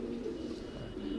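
Female racing pigeon in its loft, giving a soft, low continuous coo close by with no other sounds over it.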